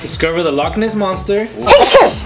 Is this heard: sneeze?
yes